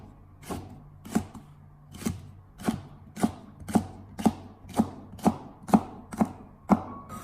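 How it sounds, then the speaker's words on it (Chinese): A kitchen knife cuts long green chili peppers into short pieces on a board: about a dozen crisp, evenly spaced chops, close and clear, with no talking. "准备少许的长线椒，把辣椒把去掉以后，接着再给它直接的改刀切成小段"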